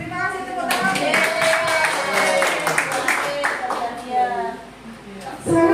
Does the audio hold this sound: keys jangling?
no